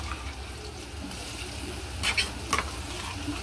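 Onion-coconut masala being stirred into a dish over a steady low sizzle, with two short scraping bursts of the spoon near the end and no voices.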